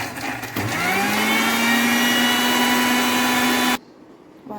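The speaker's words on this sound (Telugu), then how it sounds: "ఇవి మిక్సీకి వేయాలన్నమాట" A mixer grinder whirs loudly, grinding a chutney of onions, chili and salt, its motor rising to a steady high whine for a few seconds before switching off abruptly.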